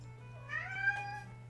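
A pet cat gives a single drawn-out meow with a rising then falling pitch, fairly close but soft, heard alone over a low electrical hum.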